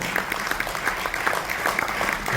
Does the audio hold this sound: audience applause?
yes